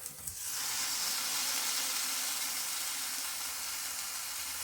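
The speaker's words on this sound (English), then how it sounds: "But I think that I'm going to make sure by browning these." Pork roast browning in an Instant Pot gives off a steady, loud sizzle and hiss that starts abruptly and holds unbroken, with no voices over it.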